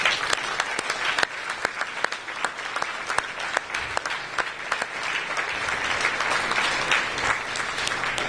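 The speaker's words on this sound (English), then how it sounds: "you need to give them a great round of applause" A student reception crowd gives a sustained round of applause, dense clapping from many people with a few sharper individual claps standing out, steady and fairly loud for the whole stretch.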